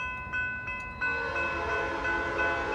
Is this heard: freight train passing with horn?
yes